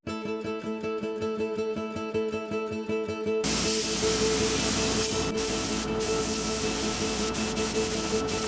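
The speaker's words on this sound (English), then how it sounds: "I don't have any brush or roller or anything but a spray gun" A paint spray gun hisses steadily while spraying primer inside a barn, a loud continuous spray that starts partway through after a rhythmic pulsing mechanical sound, with no talking.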